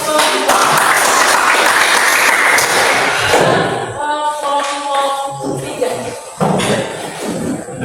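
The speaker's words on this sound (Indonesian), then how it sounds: "beri tepuk tangan untuk kelompok" A classroom group gets a dense burst of clapping that lasts a few seconds, then thins out. Voices and scattered thumps and taps follow, with a brief renewed clap near the end.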